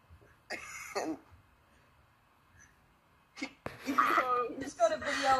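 A single sharp sneeze bursts out, followed after a quiet pause by a person talking nearby.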